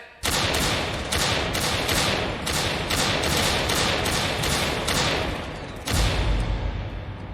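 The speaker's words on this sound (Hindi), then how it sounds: "जनरल डायर ने जलियांवाला बाग पर हमला किया।" Rapid volleys of gunfire ring out during a staged Republic Day dance-drama depicting the Jallianwala Bagh massacre: dense, loud repeated bursts in steady rhythm, pausing briefly before a final heavy boom.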